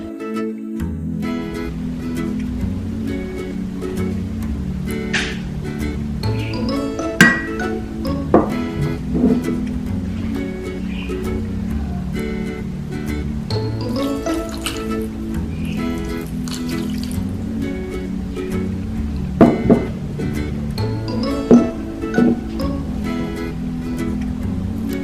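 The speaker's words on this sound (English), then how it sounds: "Added some salt, vinegar and water and wash the chicken really well in this" Chicken thighs are washed in salt, vinegar and water, with close, steady dripping and splashing and occasional sharp clinks against the bowl, and no talking.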